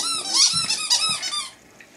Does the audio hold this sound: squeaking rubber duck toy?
yes